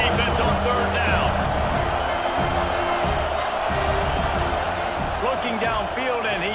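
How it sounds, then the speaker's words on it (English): A dense college football stadium crowd in a video game roars steadily on third down, swelling with whoops and cheers beneath continuous play-by-play commentary. "Decibels rising as the crowd gets behind this defense on 3rd down."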